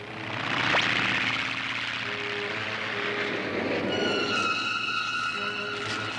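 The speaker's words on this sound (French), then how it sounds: "Oh, Oncle Gadget, un avion! Je me demande pourquoi il arrose la forêt avec un produit chimique." A cartoon airplane sprays chemicals over a forest, heard as a steady engine drone with a swelling whooshing wash that stays loud throughout. High sustained tones enter partway through, and there is no speech.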